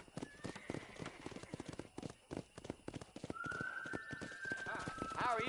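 Horse hooves clip-clop in a steady galloping rhythm in the Western video game Red Dead, loud and close, with a whinny and voices over music toward the end.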